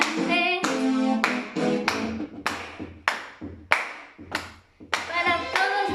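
Hands clap in a sparse, irregular rhythm as part of a children's game with household sounds, with sharp single claps set between stretches of a voice talking.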